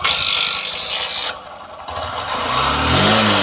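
A Honda Livo 125 motorcycle with a low battery and a stalling problem runs and is revved hard, its mid-pitched engine note droning, dipping briefly, then climbing to a loud, rising full-throttle rev close by.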